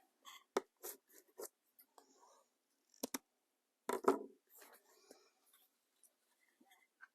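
Scissors trim the end of a ribbon while crafting a money envelope, with a few sharp close snips and small rustles amid quiet pauses.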